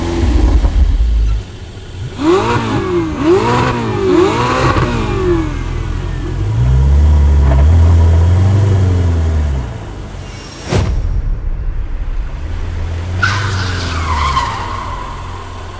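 A Ferrari sports car revs hard with swooping engine pitch and tire squeal, a loud sustained roar, a sharp thud, then more revving, all without talk.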